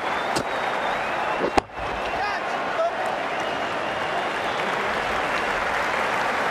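Stadium crowd noise in the Ashes Cricket PC game during an India vs Australia one-day match, a broad steady roar of cheering and applause with a couple of sharp knocks, continuous throughout.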